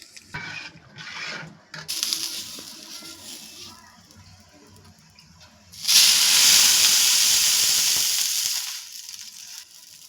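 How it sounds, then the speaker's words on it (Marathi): Water thrown onto a hot, oiled griddle pan to clean it bursts into a loud, sustained hiss of sizzling steam. Quieter scraping and rustling come before it, and the hiss fades slowly over several seconds. "तव्याला छान तेल लावून आपण पाणी टाकून क्लीन करून घेतला।"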